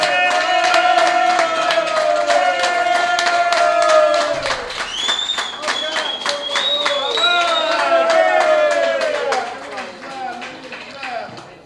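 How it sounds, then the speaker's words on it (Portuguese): A round of applause at a pigeon-racing association's awards lunch: a crowd's rapid, even claps run throughout, mixed with loud voices. "Uma salva de palmas para ela."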